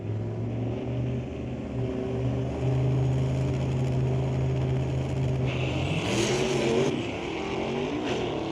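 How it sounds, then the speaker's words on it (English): A Chevrolet Malibu drag car launches with heavy wheel spin on a street-legal night at the drag strip, its engine droning steadily before rising into a louder revving surge at a distance. "Boy, some pretty bad wheel spin."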